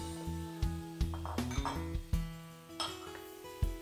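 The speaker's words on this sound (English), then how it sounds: "Add the chopped apples to the pan" Chopped apples tipped into a metal pan in a home kitchen: a rapid scatter of clinks and knocks, some bright and ringing, spread unevenly over a few seconds, close and fairly quiet, with no talk.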